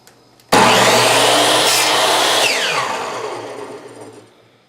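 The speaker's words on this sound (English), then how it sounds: "in my case I'm using a miter saw" A miter saw slices a short wooden pen blank in half, starting with a sudden loud whine that holds steady through the cut and then tapers off as the blade spins down, with no talking.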